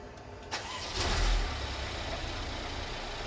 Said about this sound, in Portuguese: Nós vamos ligar o carro agora